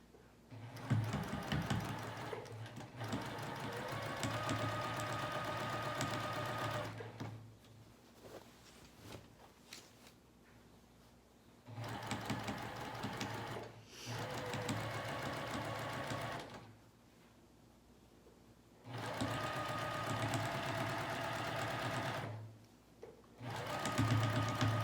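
A sewing machine top-stitches a side seam in long, steady whirring runs, close and even, broken by several pauses before it starts up again.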